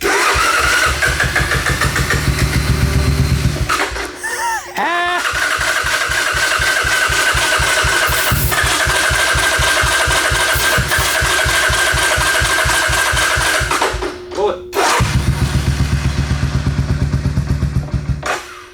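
A neglected 1986 Honda ATC250 Big Red three-wheeler with an aftermarket exhaust cranks and catches, then idles loudly with a fast, rhythmic putter, cutting out briefly twice before running again.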